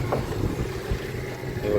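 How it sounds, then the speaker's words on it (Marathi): A fishing boat's motor runs at sea during lobster fishing, a steady low engine drone with wind and water noise, close and continuous for the whole short stretch. "संयम बोट चालवते"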